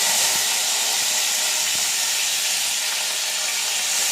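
Cumin seeds and curry leaves sizzle steadily in hot oil for tomato chutney, a close, even bright hiss that holds without pause.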